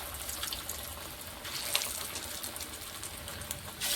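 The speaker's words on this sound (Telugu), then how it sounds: "ఆయిల్ హీట్ ఎక్కిందంటే ఒక్కొక్కటిగా వేసేస్తున్నాను." Chicken pakoda pieces, cashew chicken pakoda, frying in hot oil give off a steady, close, bright sizzle that hisses throughout, with brief crackling bursts as pieces hit the oil.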